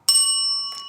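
A single bright bell strike rings out with a clear metallic ding and sustained ringing overtones, followed by a lighter second tap near the end.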